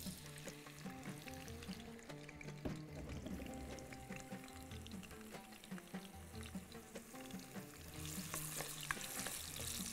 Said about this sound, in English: We're just going to fry it a little bit.